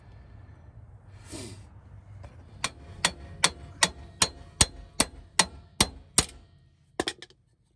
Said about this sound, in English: So we're just gonna hammer this out.